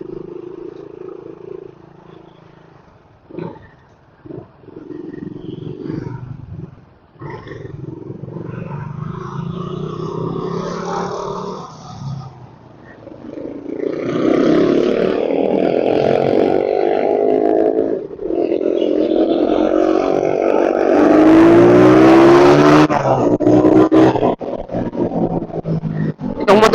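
A Suzuki Raider motorcycle fitted with a new carburetor revs close by, its engine note rising and falling in surges that grow louder and rougher toward the end, with short pauses between blips.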